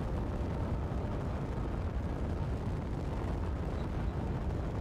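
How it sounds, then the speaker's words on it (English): Refineries run in Space Engineers, a dense, constant low rumbling roar that fills the whole stretch without pause. "Sounds like the refineries are running."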